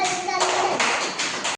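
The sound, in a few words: children clapping for a classmate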